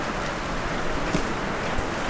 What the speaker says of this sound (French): vu qu'il pleut beaucoup, il pleut dans ma chambre